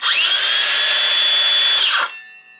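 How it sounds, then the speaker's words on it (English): A Makita XSH03 18V LXT brushless cordless 6-1/2" circular saw spins up with a high, steady whine for about two seconds, loud and close, then spools down and fades. "You can hear, just based on the RPM alone, the new saw is much faster."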